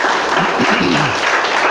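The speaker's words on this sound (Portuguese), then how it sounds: "Quem entendeu pode aplaudir e glorificar." Steady crowd applause fills the whole stretch, a dense even clatter of many hands clapping, with faint voices rising underneath.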